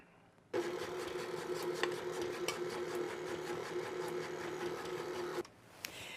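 An electric stand mixer with a rubber-flanged beater churns pound cake batter in a bowl, a steady close whirring drone that starts abruptly and runs for about five seconds before cutting off.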